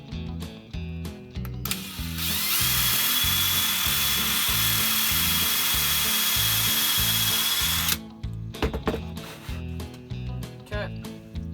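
A power drill enlarging the hole through a homemade fishing bobber indicator, a steady loud high whine for several seconds, with rhythmic clicking and background music before and after.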